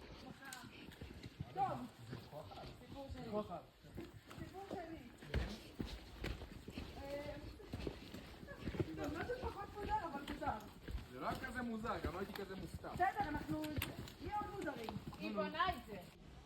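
Hooves clip-clop on hard ground, several horses walking at an uneven rhythm on the Gosaikunda Lake trek in Nepal, with people talking close by throughout.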